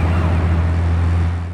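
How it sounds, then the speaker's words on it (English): Police sirens wail in the GTA Chinatown Wars video game, a loud continuous tone over a low vehicle rumble that holds steady and fades slightly at the end. "Police sirens was getting on my gut there."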